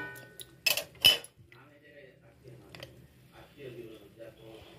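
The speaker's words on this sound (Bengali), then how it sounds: "আলুটা দিয়ে আমি ঢাকা চাপা দিয়ে দেবো।" A metal lid is set down on a pot of mutton and potatoes, giving two sharp clattering clinks close by, then a low background hum with soft kitchen shuffling.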